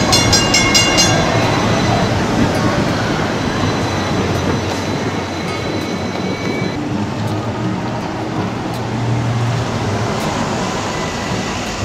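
Hong Kong double-decker trams rumble past, a steady rolling rail noise with brief squealing tones at the start, close and loud throughout.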